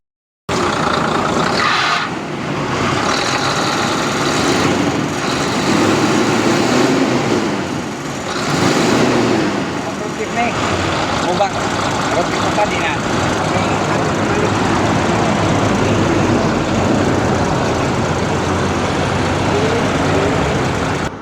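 Fuso 6M60 truck diesel engine starting and idling during troubleshooting of a stalling fault with unstable revs, a steady close engine drone with some rougher surges early on, voices heard over it.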